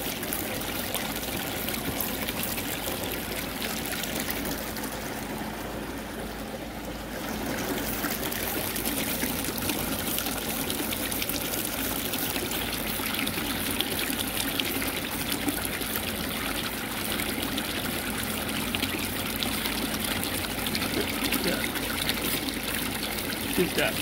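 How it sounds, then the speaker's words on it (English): Water squirted from a squeeze bottle to flush gold flakes out of a vial during a sluice box gold-prospecting race, a continuous trickling and splashing under outdoor noise with voices talking nearby. "Randy's gonna squirt out the gold with the water bottle because it kind of sticks in the vial"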